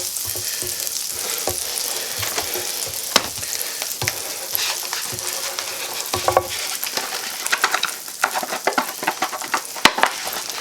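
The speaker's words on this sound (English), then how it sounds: "put that into our skillet and melt that over medium heat" Two tablespoons of butter melt over medium heat in a skillet, giving a close, lively sizzle with crackling pops that grow busier toward the end, with no speech over it.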